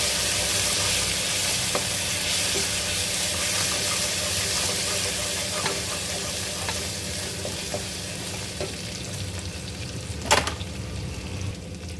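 Ginger garlic paste sautés in a pan for vegetable biryani, a loud, continuous sizzle and hiss with occasional stirring scrapes and one sharp clatter near the end, no voices.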